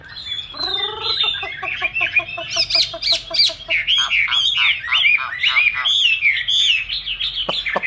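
A tamed songbird kept in a cage sings close by, pouring out rapid chirps, trills and squawky whistled phrases that run almost without pause, loud and clear with no talking.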